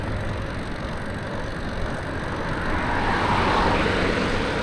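Road traffic on Tustin Avenue heard from a gravel bike, a continuous broadband roar of passing cars that swells louder toward the end, with wind rush and no voices.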